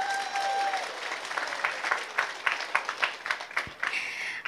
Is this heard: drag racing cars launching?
no